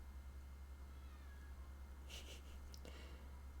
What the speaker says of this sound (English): One of my cats is meowing to get into here.